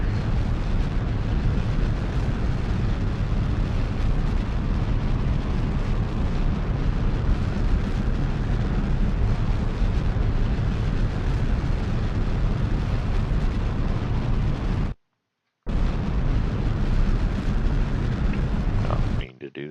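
Rocket engine firing in Kerbal Space Program, a steady, loud, dense roar that fills nearly the whole clip, broken by a brief silent gap near the end.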